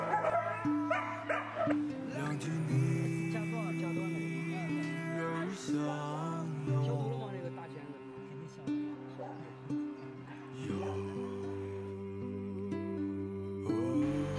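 At an animal shelter, a dog yips, barks and whimpers repeatedly over a loud, steady music track, the dog sounds coming in short bursts mixed with indistinct voices.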